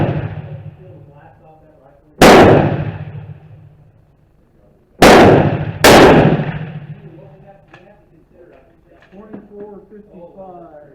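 A Sako M28 rifle loaded with 46 grains of H380 powder and CCI large rifle primers fires three loud, sharp shots, the first alone and the last two close together, with people talking quietly between them.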